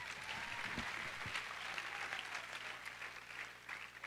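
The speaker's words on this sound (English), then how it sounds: "Round of applause." Audience applause at a school drama show curtain call: steady, dense clapping from a crowd in a hall, sustained evenly throughout at a moderate distance, with a few louder individual claps near the front.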